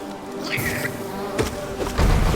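Giant bees in the video game Hollow Knight give off a steady insect buzz with some rising and falling whines, loud and close. Sharper game effects break in near the end.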